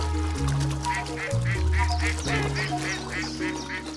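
A wild duck at a lake quacks in a rapid run of repeated calls, loud and close, over a low droning music bed.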